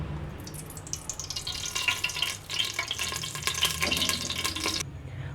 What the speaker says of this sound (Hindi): ऑयल हमारा गर्म हो चुका, तो मैं इसमें प्याज डाल देती हूँ